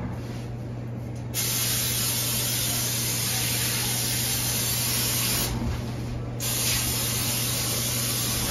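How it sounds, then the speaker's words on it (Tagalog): Cooking oil sprays from a can onto a baking sheet being prepared for Filipino-style BBQ, producing a loud, close, continuous hiss in two long bursts separated by brief pauses. "Spray natin siya ng konting oil."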